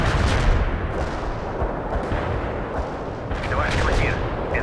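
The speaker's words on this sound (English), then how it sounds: "Commencing the barrage." Artillery barrage in the World in Conflict video game, a dense, continuous rumble of booms and blasts with no letup, with voices and radio chatter layered over it.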